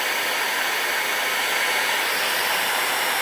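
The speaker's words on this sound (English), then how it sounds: "This is level 1 on the blower" An electric blower on its lowest setting, drawing 125 watts from a portable power station, produces a steady, even whoosh of rushing air that holds constant throughout without any voices.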